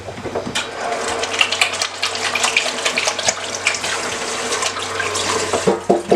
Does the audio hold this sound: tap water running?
yes